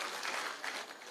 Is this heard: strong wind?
no